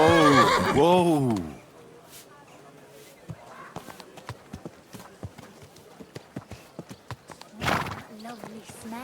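A horse in the medieval game Kingdom Come: Deliverance II gives a loud, close whinny, then walks with regular hoof clops before a second shorter neigh, with some voices mixed in.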